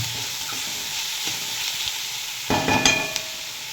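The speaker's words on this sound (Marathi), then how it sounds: "आता चांगलं परतवून घ्यायचं याला" Onions sautéing in a pan give a steady close hiss and sizzle, then a sharper burst of frying and a few utensil scrapes near the end, with no talking.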